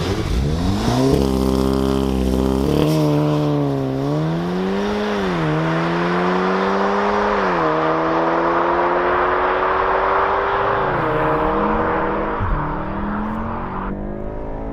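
Volkswagen Golf R Mk7 launching hard with launch control, its engine note loud and close as it climbs through the revs in rising sweeps, with brief dips at each gear change over about fifteen seconds.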